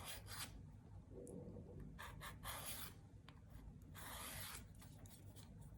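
A nail file rasps down the side wall of a hard gel nail in short, quick, close strokes with small pauses between bursts, quiet and without talk.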